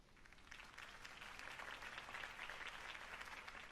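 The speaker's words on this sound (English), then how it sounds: "If only Mr. Wayne, my campaign's largest backer, could have heard that applause" Sustained crowd applause in the game Batman: The Telltale Series, steady clapping from many hands that swells slightly and holds, with no voices over it.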